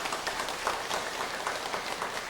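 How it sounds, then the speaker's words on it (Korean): Church congregation applauding in encouragement, a steady dense wash of many hands clapping together for a couple of seconds without talk. "격려 박수 한번 드리도록 하겠습니다."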